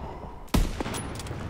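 A sharp, loud gunshot rings out in the World War II shooter Call of Duty WWII, followed by a couple of fainter shots and a steady background din of battle.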